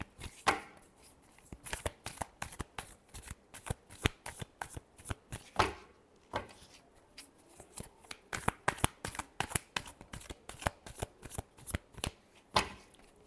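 Tarot cards shuffled by hand in a rapid, steady run of crisp flicking slaps, close up and continuous, with brief pauses between bursts and no voices present.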